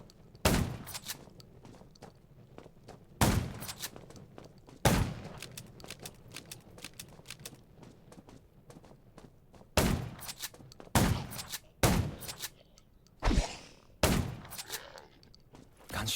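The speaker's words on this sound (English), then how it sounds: "Gunshots will attract more zombies." Loud, sharp gunshots ring out in scattered bursts in the zombie video game Undawn, some in quick rapid-fire strings, with quieter footsteps and thuds between them.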